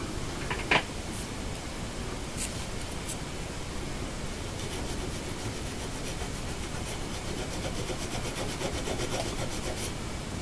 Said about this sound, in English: Now we're going to use what's called fret erasers to do some rough sanding on the top of the frets and sides of the frets